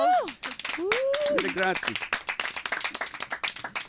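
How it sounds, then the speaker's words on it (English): Round of applause and scattered clapping for guest filmmaker Desciple on a talk program, starting under a speaking voice and then continuing as a dense run of claps. "Let's have a big round of applause."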